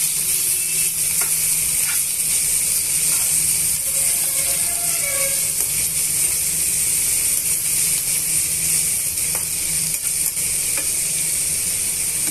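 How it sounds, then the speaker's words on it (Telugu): Bitter gourd pieces fry in hot oil with a dense, continuous sizzle, close and even throughout, with occasional light scraping and clicking from the pan. "కాకరకాయ ముక్కలు వేసుకున్న తర్వాత తీసి వేయించుకోవాలండి"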